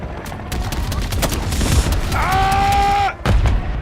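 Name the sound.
helicopter and gunfire in video game Call of Duty Modern Warfare 3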